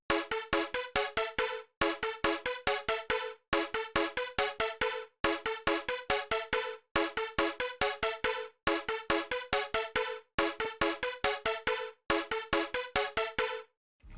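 Layered poly synth pluck preset named "It's a Knife" in a beat, bright rapid plucked notes repeating in a tight looping pattern with brief gaps between bars, loud and alone.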